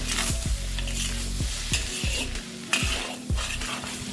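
A spatula scrapes and stirs kampong fried rice in a wok, with scratchy metallic strokes repeating roughly every half second over a steady frying sizzle, close and fairly quiet.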